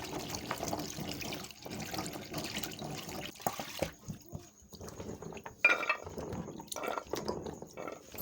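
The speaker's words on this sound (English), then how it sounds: "trying to thoroughly wash my Banga or AkA" Banga palm nut extract (Aku) is washed in water, with splashing, sloshing and dripping coming in irregular bursts, close and fairly quiet.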